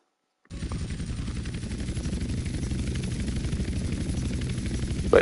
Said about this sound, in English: Landing in a helicopter.